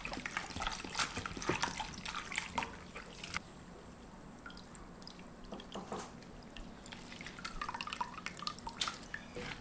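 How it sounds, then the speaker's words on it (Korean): Salted bellflower root is rinsed in water. Soft splashing, dripping and trickling run through the stretch with light handling sounds, close and fairly quiet, and no one speaks. "이렇게 다 절은 도라지를 물에다 한번 헹굴게요."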